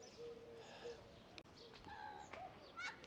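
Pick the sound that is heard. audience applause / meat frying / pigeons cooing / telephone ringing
pigeons cooing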